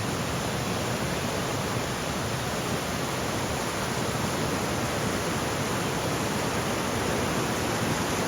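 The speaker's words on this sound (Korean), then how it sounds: "관음폭포고요." Gwaneum Falls in Seoraksan, South Korea, roars in a steady, dense, unbroken rush of falling water close by in an autumn mountain valley, with no voices.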